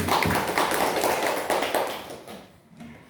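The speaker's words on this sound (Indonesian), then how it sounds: "Kita berikan aplaus dulu untuk" Audience applause for a teacher's presentation on her vision as a driving teacher: a dense, steady burst of many hands clapping that gradually thins and fades out near the end, with no voices.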